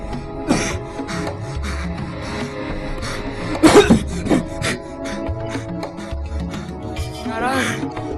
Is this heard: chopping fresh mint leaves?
no